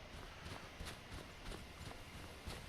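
Horse hooves clip-clop steadily in Skyrim, an evenly spaced series of thuds as the animal trots closer over open ground, moderately loud against a continuous outdoor ambience with no speech.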